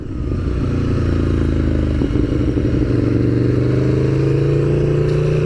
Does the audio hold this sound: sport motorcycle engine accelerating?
yes